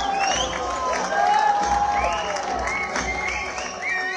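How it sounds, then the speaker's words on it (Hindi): Applause and cheering from a crowd at a cultural closing ceremony, with whoops and shouts rising over the steady clapping throughout. "इसके लिए आप सबका जोरदार ताली"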